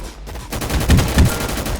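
Gunfire in the game Gun Fight Arena, a short loud burst of several rapid, close shots following a brief quieter lead-in.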